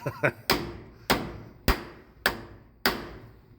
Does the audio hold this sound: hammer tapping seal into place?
yes